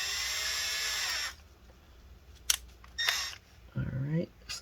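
A drill bit boring into the cooling fan of a Lenovo Legion Y545 laptop: a steady high whine for over a second, then stops, followed by a few sharp clicks and a short burst of handling noise at close range.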